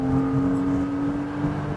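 A 2006 MINI Cooper S JCW GP engine pulls under acceleration, a steady mid-pitched non-turbo engine drone with a strong tonal hum, heard fairly close and alone without talk.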